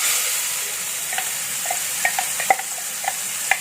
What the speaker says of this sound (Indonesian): ini sudah panas, saya akan masukkan bumbu yang dihaluskan. bersama minyaknya sampai rata ya.